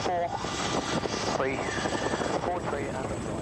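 A British military helicopter in Bosnia gives a loud, continuous rotor and engine drone under a voice talking throughout.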